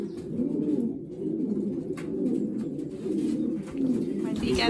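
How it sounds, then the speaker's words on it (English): Racing pigeons coo steadily and close by while they are being basketed for races, a low continuous murmur of several birds, with a few brief higher sounds mixed in. "This is my Tarbs pigeon."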